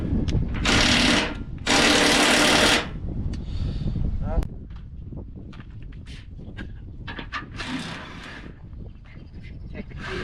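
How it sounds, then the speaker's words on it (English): Power tool breaking loose bolts in the fender well of a 1978 K5 Blazer, with two loud sustained bursts near the start and a sharp bang, then quieter clanking and working noise. "I got some power tools today, so that makes my life easier."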